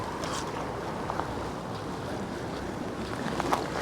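Strong wind, gusting at 45 mph or more, roars steadily across Poole Harbour during a fishing session, with constant buffeting on the microphone and faint water movement beneath.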